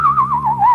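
A voice hums and whistles at the same time to imitate a UFO landing, a short, loud, warbling tone that wavers up and down over a low hum.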